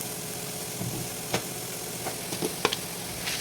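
Spices stirred into hot oil for an ivy gourd curry hiss with a steady, close sizzle, punctuated by a few brief scraping clicks of the spoon against the pan, with no talking.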